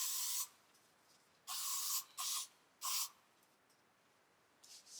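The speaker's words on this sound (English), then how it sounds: "So I'm gonna spray this so I don't get any more mosquito bites." Four short bursts of Deep Woods OFF insect repellent sprayed from an aerosol can at a campsite, close and loud, each a broadband hiss of about half a second with pauses between, plus a faint fifth at the end.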